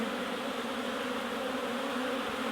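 Honey bees hum around beehives in spring sunshine, a dense, continuous droning buzz from many insects close by, steady and even throughout.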